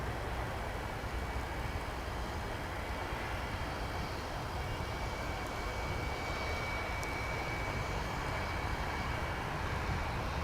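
Steady broadband engine roar from an airliner taxiing at DFW Airport, a continuous, fairly distant drone holding level throughout with no talk over it.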